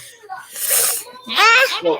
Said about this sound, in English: That sounds like a sneeze to me.